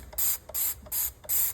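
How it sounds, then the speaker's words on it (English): Cleaner sprayed onto a cupboard shelf in four quick, evenly spaced hissing bursts from a trigger sprayer, close and crisp, with no voices. "So that's got to be thoroughly scraped and sprayed and"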